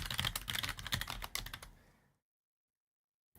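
A computer keyboard is typed on in a quick burst of clattering keystrokes, close and fairly loud, which fades out after about two seconds into silence.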